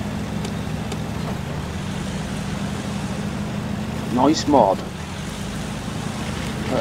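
A tuned engine drones steadily as a Land Rover Series 3 mod cruises in the SnowRunner video game. The low, even hum runs throughout, with someone speaking briefly over it.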